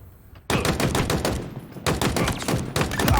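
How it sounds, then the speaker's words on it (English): Rapid automatic gunfire while shooting bots in the Halo Infinite video game, loud close bursts of dense repeated shots in two long strings separated by a brief pause. "we can just start to shoot them"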